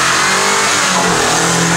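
A stock Lada Niva off-road car converted to fuel injection roars loudly as it accelerates hard in an off-road sprint competition, its engine revving steadily and close by.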